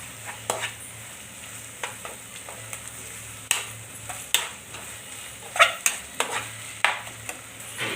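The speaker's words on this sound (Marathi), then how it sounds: "आता आपण कांदा टाकलाय तो मिक्स करायचा व्यवस्थित आला लसूणच्या पेस्टमध्ये" Chopped onion stirred into ginger garlic paste in a pan for a restaurant-style chicken gravy, a soft sizzle under repeated scraping and clinking strokes of a spoon against the pan, close and steady.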